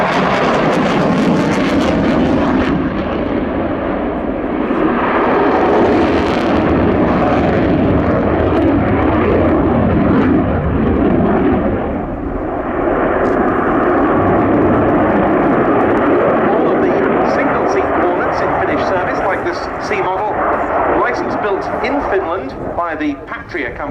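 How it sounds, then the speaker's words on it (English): A fighter jet flying a display at the 2019 Fairford air show, a loud, continuous roaring engine that swells and fades over its pass, with a commentator talking throughout. "shows what a wonderful air-to-air fighter this aircraft is"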